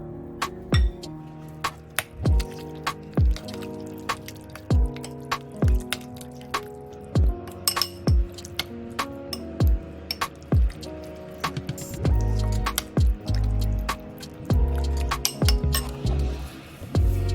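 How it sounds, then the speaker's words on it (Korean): A spoon mixes a thick seasoning sauce for spicy kimchi noodles in a bowl, giving repeated wet squishes and light clinks against the bowl in a steady rhythm, close and clear with no talking. "양념들이 잘 섞이도록 골고루 섞어주세요."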